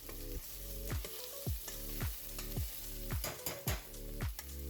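Onions and garlic sautéing in a pot over medium-low heat, a steady close sizzle broken by repeated rhythmic stirring scrapes about every half second.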